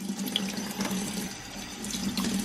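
A kitchen tap runs lightly while green chile peppers are peeled under it, giving a steady, close trickle and splash of water into the sink with small clinks and no talking.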